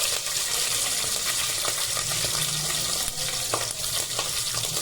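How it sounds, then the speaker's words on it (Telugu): Green chillies and curry leaves fry in a hot pan for head curry, a steady dense sizzle and crackle running throughout with occasional stirring clinks, close and fairly loud, no voices. "పచ్చిమిరపకాయలకు 3 వేసుకొని కరివేపాకు కూడా వేసుకోండి. ఈ విధంగా కొంచెం వేగిన తర్వాత చాలా బాగుంటుందండి"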